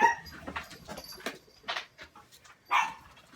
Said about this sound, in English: my dog is barking because the UPS man is zooming outside